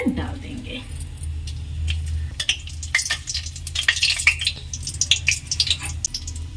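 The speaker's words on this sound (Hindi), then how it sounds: "तेल हमारा अच्छे से गर्म हो गया, तो जो मैंने मेथी के दाने लिए थे उसे हम इसमें डाल देंगे।" Fenugreek seeds and a broken dried red chili hit hot oil and sizzle, with crackly spits and scraping stirring, a low steady hum underneath and someone talking through it.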